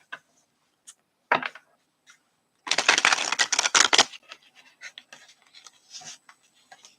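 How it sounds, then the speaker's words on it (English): Tarot cards shuffled on a piece of cloth: a dense burst of riffling and soft slaps for about a second and a half, with scattered lighter taps and brushes before and after, close and fairly quiet. "let's just shuffle these cards"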